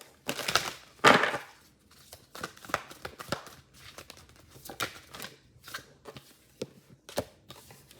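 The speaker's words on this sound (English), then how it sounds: "let me pull one card for each sign" Tarot cards are shuffled and drawn, a series of soft papery flicks and snaps with two sharper riffles near the start, then lighter irregular taps close by in a quiet room.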